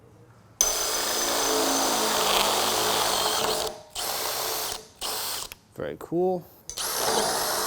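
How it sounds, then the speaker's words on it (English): A power drill whirs loudly for several seconds, drilling a hole through a roll-up door during assembly, then stops and restarts in short bursts, revving up and down, with a brief spoken remark between. "you need to be able to drill a hole through this point here"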